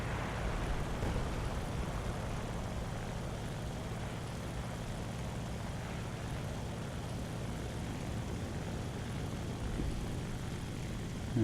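Aircraft engine droning in a World War II flight combat game with a Fw 190A-5/U2, a steady continuous engine roar at moderate level, with no talk.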